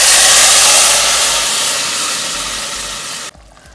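Onion-tomato puree sauteing in hot oil in a pan, a loud, steady broadband sizzle that fades slightly before cutting off abruptly near the end.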